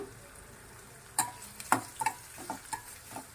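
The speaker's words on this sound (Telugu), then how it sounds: "మంచిగా వేగనివ్వాలండి ఆనియన్స్" Onions fry in a pan for a broad bean and tomato curry, giving a soft, quiet sizzle broken by several sharp clicks and scrapes of a spoon stirring, with no talking.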